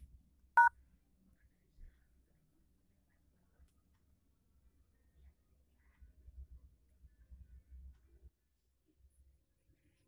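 A mobile phone's keypad dialing tones after calling the *#61# code: one short bright tone burst near the start and another at the very end, with faint low rumbling and quiet in between.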